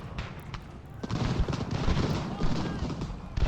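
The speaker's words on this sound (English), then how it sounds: "The artillery now gets involved." Artillery and musket fire in the strategy game Ultimate General: Revolution, during the Battle of Fort Augusta: a dense, continuous rumble of distant booms and crackling volleys, steady and moderately loud with no voices.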